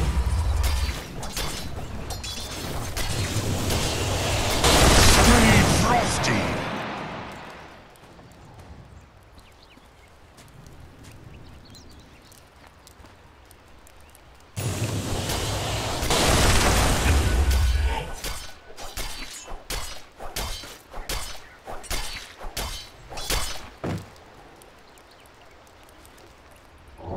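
Two loud booming blasts in Dota 2 gameplay, each surging in and rolling off over a few seconds, the second followed by a rapid run of sharp crackling hits.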